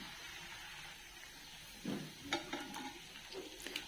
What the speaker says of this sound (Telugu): ఆయిల్లో వేస్తున్నానండి బాల్స్ ఇది చాలా చాలా ఈజీ సింపుల్గా ఉంటుంది టేస్టీగా ఉంటుంది ఈవినింగ్ స్నాక్స్గా చేశాను నేను ఇవన్నీ డీప్ ఫ్రై చేసుకుంటున్నాను